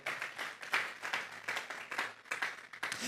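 A church congregation claps together in praise, a dense and fairly steady patter of many hands beating continuously throughout, with no talking over it.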